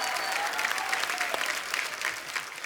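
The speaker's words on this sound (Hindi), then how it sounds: "इन तीनों फनकारों के लिए जोरदार तालियां।" A studio audience on The Kapil Sharma comedy show breaks into dense, steady applause, a continuous wash of clapping that stays fairly loud for nearly three seconds with a faint whistle-like tone on top.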